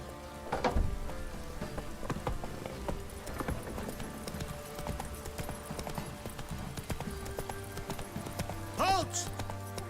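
Geralt's horse Roach clip-clops along in The Witcher 3, a steady hoof rhythm running under game ambience, with a brief sharper flourish near the end.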